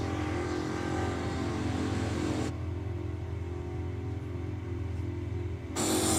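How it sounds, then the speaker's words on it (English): A drag racing car does a burnout at Sydney Dragway, a steady, loud engine roar and tyre noise that drops back abruptly partway through, then surges again at the end. "What a burnout."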